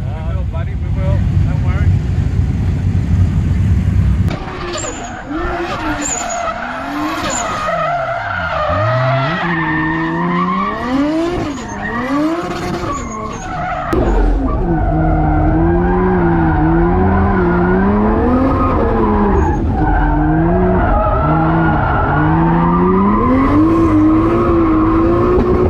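Two drift cars run in tandem, engines revving hard and rising and falling as tyres skid and squeal continuously, loud and close, with a voice briefly heard over the noise.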